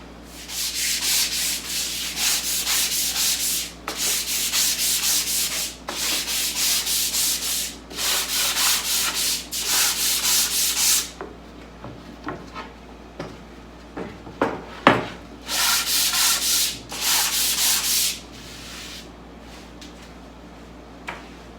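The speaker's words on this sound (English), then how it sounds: "just going to give that a little sand off to get rid of any burrs" Rhythmic hand sanding of drilled wood on a sideboard, scraping in several steady bursts, with short pauses and a few light knocks between strokes, close up.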